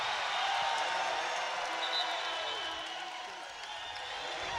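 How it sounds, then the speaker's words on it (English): A basketball arena crowd at an Iowa versus Kansas State game roars in a sustained, broad wash of cheering that stays loud and distant, slowly easing back, with a commentator's voice faintly underneath. "Listen to this crowd."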